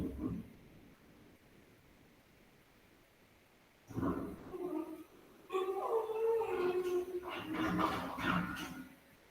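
A dog indoors lets out a few howling, yowling cries, starting with two short bursts and then a longer sustained wail that rises and falls, fairly close and loud against a quiet room.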